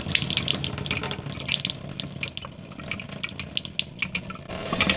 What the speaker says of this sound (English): There we go. Now we got water.